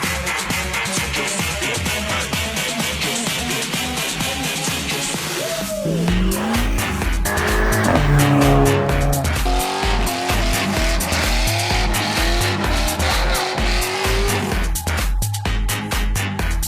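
An Audi A3 fitted with a new downpipe and performance software revs hard. Its exhaust gives a rapid run of loud crackles and pops, first over a droning engine note, then over a deeper, heavier rumble.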